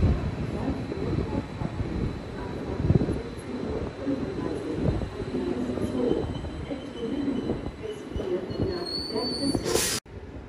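The ET-134 electric train arrives from Berchtesgaden, a low rumbling roll with wind noise across the microphone, steady for ten seconds before cutting off abruptly.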